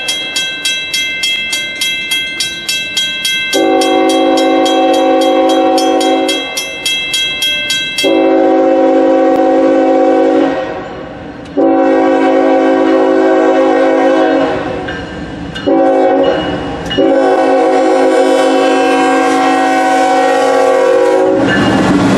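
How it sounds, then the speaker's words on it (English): Northbound Norfolk Southern ethanol freight train passing the South Pickaway Street crossing in Circleville, loud and close, with repeated long horn blasts over a steady rumble and rhythmic clatter of wheels on rails. "we then caught a northbound Norfolk Southern ethanol train at the South Pickaway"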